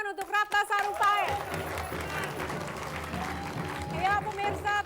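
A studio audience claps for Ratna Sarumpaet on an Indonesian candidate talk show, a broad burst of clapping that swells and holds, with music and a voice heard over it.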